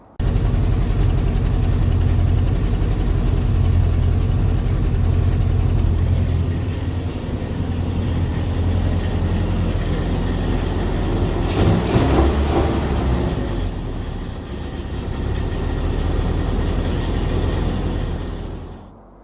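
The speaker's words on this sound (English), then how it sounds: "they say when you get that nice exhaust note where it's going pop, pop, pop, pop, pop, pop" A Triumph Spitfire engine idles during an amateur restoration. The loud, close exhaust rumble runs throughout, shifting slightly in pitch midway before cutting off at the end.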